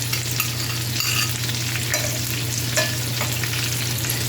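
Sliced brown mushrooms, white onion and leftover butter fry in a pan with a steady close sizzle, joined by a few light scraping stirs, and no voices are heard.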